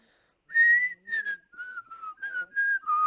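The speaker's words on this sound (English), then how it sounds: "My whistling is very annoying" Melodic human whistling, a run of short sustained tones at changing pitches, fairly loud and close, with brief pauses between notes and no talking over it.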